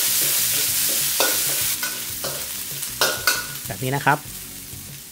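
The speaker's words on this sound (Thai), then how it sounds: "พริกกระเทียมที่เราโขกเอาไว้นะครับใส่ลงไปผัดได้เลยนะครับจนเหลืองหอมนะครับ" Pounded chilli and garlic stir-fried in hot oil, sizzling steadily with repeated scraping stirs of a utensil against the pan, close and clear, with a brief spoken phrase near the end.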